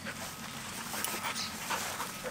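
A herding dog lying down in a seaside meadow pants and whimpers softly, faint and fairly distant under outdoor background noise.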